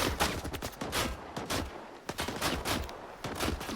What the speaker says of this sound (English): somebody is shooting me.